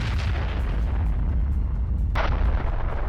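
Heavy explosion of an anti-tank missile striking an enemy BMP infantry fighting vehicle, a loud sustained boom and rumble with a sharp burst near the end, no voices.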